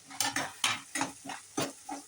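Tomatoes and curry leaves sauté with ginger-garlic paste in a pan, stirred in a series of sharp scraping, spattering bursts, about seven spaced strokes, close and moderately loud.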